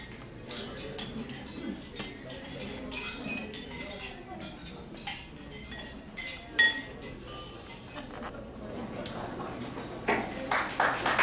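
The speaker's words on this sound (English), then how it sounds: "So please raise your glass to the very, very happy couple and a toast to you both, Mimi and Marcus." Wedding guests clink glasses during a toast, bright scattered chimes of glassware ringing out over murmuring voices and room chatter, with a denser flurry of clinks near the end.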